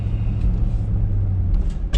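A vehicle driving at night while scrapping, a steady low engine and road rumble heard from inside the cab, loud and continuous.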